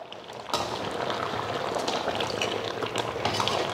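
Chicken pieces of country hen fry in a pan as their water cooks off, giving a dense, steady sizzle and bubbling that starts sharply and carries on close and even.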